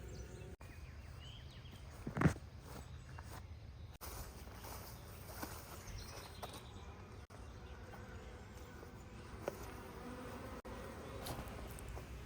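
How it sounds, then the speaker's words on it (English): A swarm of honey bees buzzes its wings outdoors in spring, a faint, steady hum heard at a distance with a few soft knocks and clicks, no voices. "But you see how they buzz their wings."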